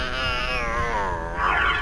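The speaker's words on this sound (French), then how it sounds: "mais on a aussi son chat" A cat meows in a Harry Potter and the Philosopher's Stone PS1 game, a drawn-out wavering yowl over steady game sound, rising again toward the end.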